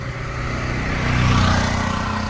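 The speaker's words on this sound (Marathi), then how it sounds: "पण ट्रॅफिक खूप आहे इथे" A steady, moderate hum of congested car traffic fills a busy road in Ganpatipule, with engines idling and creeping along at a low, even level and no clear voices.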